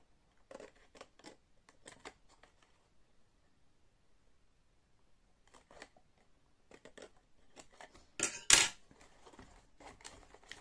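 Scissors cut folded material while a pencil holder is made from recycled materials, producing a few sparse crisp snips and rustles with quiet gaps, then a louder burst of handling near the end.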